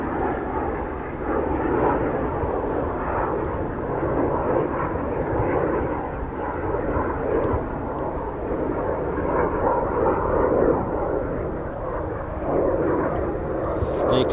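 Eurofighter Typhoon jet at RAF Coningsby, a loud continuous engine roar that holds steady throughout with no voices.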